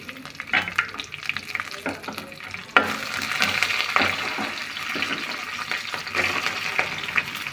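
Green chillies, vadagam and curry leaves frying in a pan, a close, steady sizzle with frequent stirring scrapes and spatula knocks, growing louder and more crackly partway through.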